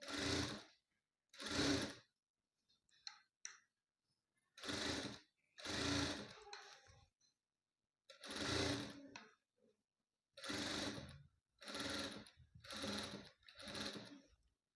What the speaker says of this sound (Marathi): बघा अशी पट्टी पूर्ण ब्लाउजला शिवून घ्यायची